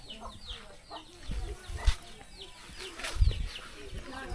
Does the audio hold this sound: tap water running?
no